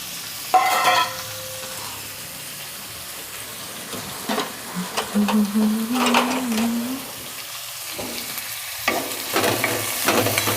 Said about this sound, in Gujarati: તેલ ગરમ થઈ ગયું છે હવે આપણે મૂરા અને પાલક નાખી દઈશું